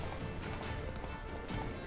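Rapid galloping hoofbeats of a horse in The Witcher 3 pound steadily for a couple of seconds, with a busy, slightly synthetic texture and no voices.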